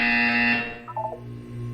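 In a Portal 2 test chamber, a loud electronic buzzer rasps for about half a second, then stops, leaving a short warbling blip and a steady low machine hum.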